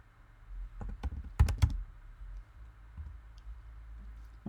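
Fingers tap at a computer keyboard in a quiet room, a few scattered key clicks followed by a short quick cluster, then sparse faint taps over a low background hum.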